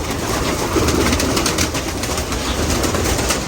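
Pigeons in a breeding loft for champion-bloodline birds keep up low, continuous cooing at close range over a thick, steady background wash, with no voices present.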